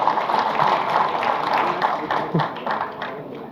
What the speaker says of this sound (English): So big round of applause to our Chief Minister.